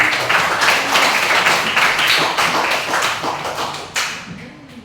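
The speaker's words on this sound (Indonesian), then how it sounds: "Mari kita berikan aplaus." Applause fills a classroom, a dense run of claps from a group of students lasting several seconds and tapering off near the end, with no talking over it.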